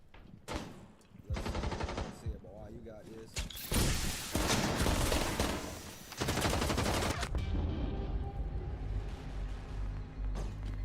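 Automatic gunfire in a ranked online shooter game, loud rattling bursts and sustained sprays of shots with mechanical clatter, overlapping with a player's voice talking.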